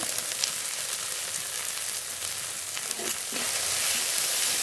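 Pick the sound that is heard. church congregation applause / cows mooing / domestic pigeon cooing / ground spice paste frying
ground spice paste frying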